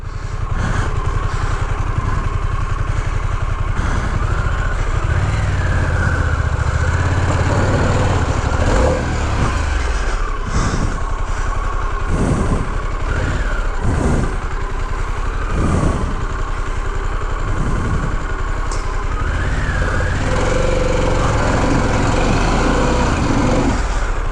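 A Harley-Davidson Pan America motorcycle stuck and dug into dirt on road-oriented tires, its engine droning and revving in repeated surges, close and loud, with no talking.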